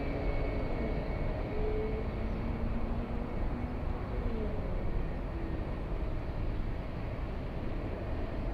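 Rolls-Royce RB211 engines on a Boeing 757 at Los Angeles airport hum at idle, a steady, droning roar with faint tonal whines, heard from a distance.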